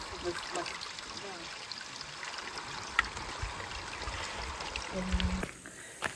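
Cold spring water trickles and flows steadily in a cool forest near Skhidnytsia, a continuous close babble with faint occasional voices in the background.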